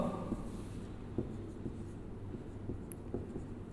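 Marker or chalk strokes on a board during a Hindi chemistry lesson on haloalkane reactions, a steady scratchy scraping with a few sharper taps, fairly close against a low background hum.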